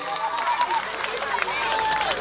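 Audience applause at a school program, a dense steady patter of many hands clapping in a hall, with voices mixed in.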